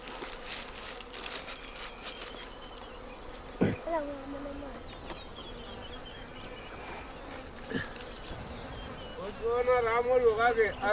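Bees buzz continuously around a wild honey nest in Kenya, a close, steady hum broken by a few sharp knocks, with chirping birdlike calls rising near the end.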